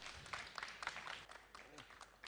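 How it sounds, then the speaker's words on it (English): An audience at a startup pitch event claps and applauds for a few seconds, a dense, moderately quiet patter of hands with murmuring underneath. "Let's welcome Anil Patil, sir, with a huge round of applause, everyone"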